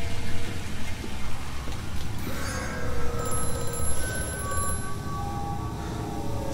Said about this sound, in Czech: Jsem se lekl, to je zase na telefon.